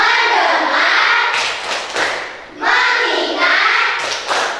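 A class of children clapping together in a rhythmic pattern, loud and close, in a roomy classroom.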